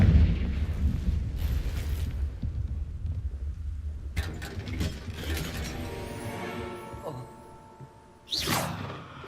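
Fiery Confringo spell blast in the video game Hogwarts Legacy, a sudden loud burst near the end after a rumbling, clanking mix of game effects and low ambient noise.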